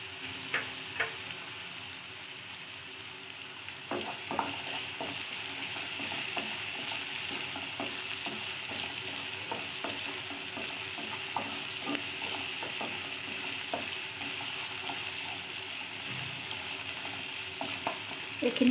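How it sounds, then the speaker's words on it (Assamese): Garlic and ginger frying in a pan for an Assamese-style eggplant bharta, a steady soft sizzle with scattered light clicks and scrapes of stirring, close and continuous, no talking. "এইখিনি মই 5 মিনিটমান ভাজি লওঁ"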